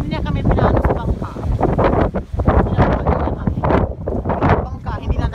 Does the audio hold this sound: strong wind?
yes